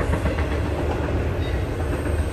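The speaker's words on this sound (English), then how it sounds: "train going by." A train passing near a new home in Tennessee, a steady broad rumble with rolling rail noise holding loud and even throughout, with no talking.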